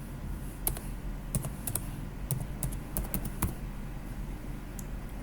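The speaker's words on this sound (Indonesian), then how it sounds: "Kemudian kita ketikkan di sini namanya tugas 2." Fast, quiet clicking of keys on a computer keyboard while typing a file name, an irregular stream of light taps over steady background hiss, with no voices.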